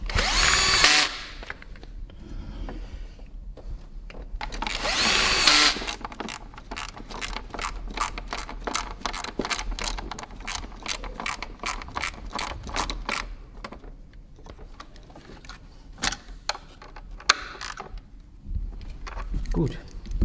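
A hand ratchet tightens valve cover screws on an Audi S3 8P 2.0 TFSI, its pawl clicking in fast, close runs of rapid ticks with pauses between, while someone talks over it at times.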